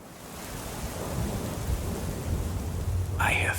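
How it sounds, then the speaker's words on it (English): Thunder and steady rain from a video game's opening intro, a continuous low rumble with rain noise building across the clip, then a brief bright tonal burst near the end. "I hear thunder. Pitter patter."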